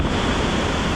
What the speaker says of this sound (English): And look at how much the creek came up overnight.